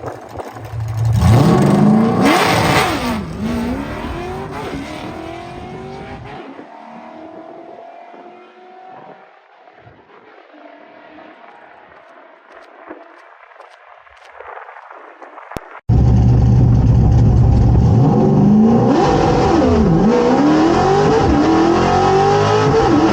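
Ford Torino GT making a drag racing pass at a test and tune session: the engine revs hard and loud through rising shifts, fades away with distance, then roars back loud and close.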